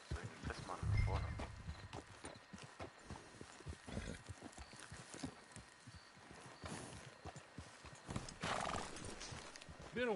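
Horse hooves clip-clopping in an online video game, irregular hoofbeats close by with a neigh and whinny partway through, while voices talk over the scene.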